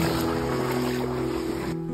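A small waterfall in the countryside pours with a steady, unbroken rush of water, holding an even loudness throughout with a faint low hum beneath it and no voices.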